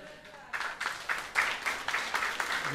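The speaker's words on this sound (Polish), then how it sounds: "Brawa Pani Soniu!" Applause for a singer from an audience in a restaurant at a regional schlager music show, a short burst of scattered clapping that starts suddenly and carries on evenly.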